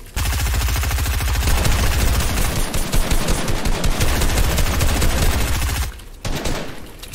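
Sustained automatic assault rifle fire in Fortnite, a loud, close, rapid stream of shots lasting several seconds before breaking off with a brief gap and a short resumption.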